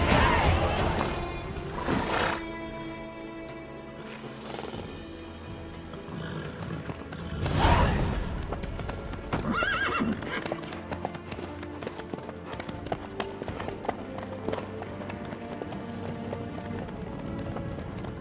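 Horse hooves clip-clopping steadily in The Witcher 3, mid-distance rhythmic footfalls running throughout with occasional louder bursts and background game sounds, and voices talking over parts of it.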